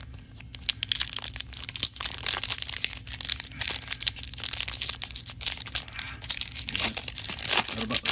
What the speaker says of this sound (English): Right about the time I think I get good at opening up these packs.